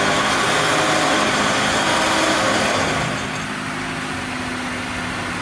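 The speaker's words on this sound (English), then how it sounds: "And then we're going to start winching in. I should know, listen how quiet that motor is." A WARN ZEON XD winch motor on a Jeep Wrangler JL or Gladiator Rubicon reels in its line, a steady, loud close mechanical whir with a high whine that eases slightly in level partway through.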